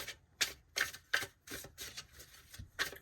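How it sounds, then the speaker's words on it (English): Tarot cards being shuffled, a series of soft, quick riffling bursts at a roughly steady rhythm, close and quiet, with no talking. "I'm going to do 2 more shuffles here."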